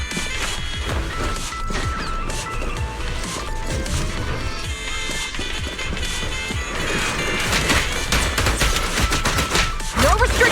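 Gunfire and impacts in the action game Zenless Zone Zero, a dense clatter of shots, crashes and hits layered over game music, loud and continuous.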